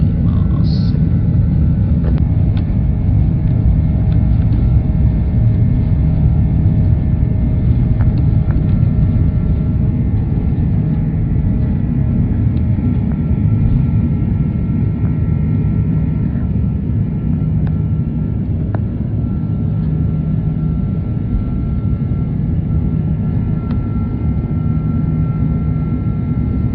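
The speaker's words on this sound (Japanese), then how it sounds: "離陸の時間になりましたので、 香港を出発したいと思います。" Inside the cabin of a Cathay Pacific airliner departing Hong Kong on a night flight, a loud, steady jet engine roar and deep rumble fill the space without a break.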